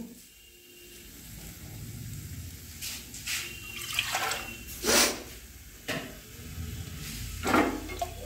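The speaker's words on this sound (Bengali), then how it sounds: "দেখুন পরিমাণ মতো জল দিচ্ছি।" Water poured into a kabuli chickpea mixture in a kitchen, heard as several short, close splashing pours with brief pauses between them and no talking.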